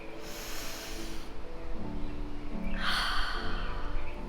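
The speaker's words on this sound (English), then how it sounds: "taking a deep breath like this" A slow, deep breath drawn in and then let out, a long airy inhale followed by a broad exhale, close and alone with no talk, taken as a calming pause.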